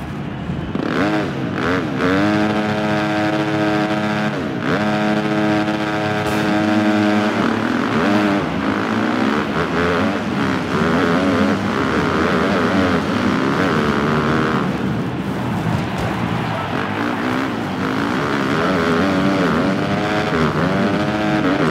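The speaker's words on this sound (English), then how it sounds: "The roar of the engines is deafening." Motocross bikes roar at the gate in a Glendale supercross race in Monster Energy Supercross 2 on PC. Several engines rev loud and steady, their tones rising and falling, with a sustained whine throughout.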